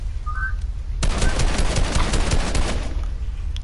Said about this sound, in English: why do I hear gunshots?